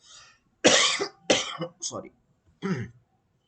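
Someone coughs and clears their throat several times in short, close bursts with pauses between, and a brief spoken apology follows.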